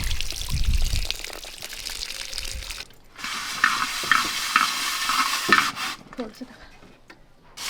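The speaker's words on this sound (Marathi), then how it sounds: "चिकन पण धुवून घेऊ दोन तीन पाण्यामध्ये" Raw chicken being washed in a pot of water outdoors at a village cooking fire, with sloshing, pouring and splashing in a few bursts and the vessel knocking now and then.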